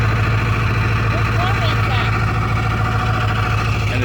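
A car engine idles roughly and loudly, a constant low rumble with rattly exhaust from loose header bolts that are not fully tightened, with faint background voices.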